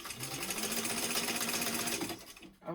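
A sewing machine stitches steadily around the edge of a pocket on a weekender travel bag, a close, continuous mechanical whir with a rapid needle rhythm that slows and stops near the end.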